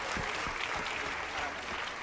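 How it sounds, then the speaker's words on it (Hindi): Applause from an audience at a religious discourse gathering, many hands clapping in a steady, fairly soft and distant wash. "जरा तालियां जरूर बजाइएगा।"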